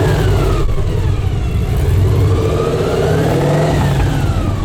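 Cizeta-Moroder V16T supercar with a transverse V16 engine revving hard, a loud, continuous engine roar with strong intake noise and a deep burble, with belt and gear whine riding on top throughout.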